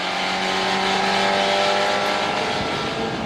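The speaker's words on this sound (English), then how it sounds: "look at the Lotus coming down the inside. It seems to be going by the BMW on the straight" A Lotus and BMWs in a Supercar Challenge race at Zolder roar past at close range, a loud, sustained engine howl with a slight pitch sweep as they battle on the straight.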